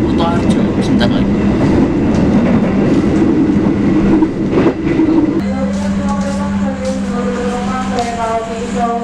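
The Sawunggalih Utama passenger train rumbles steadily along the tracks with a low droning hum, joined partway through by a pulsing, wavering tone over the continuous rolling noise.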